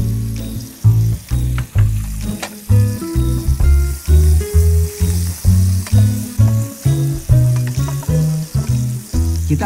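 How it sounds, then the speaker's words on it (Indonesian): Bird's eye chilies sautéing in margarine, a steady loud sizzle and frying crackle broken by rhythmic stirring bursts, close up with no talking. "Kita akan tumis si rawit ini dengan menggunakan margarin."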